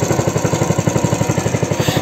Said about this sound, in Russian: поехал тракторок.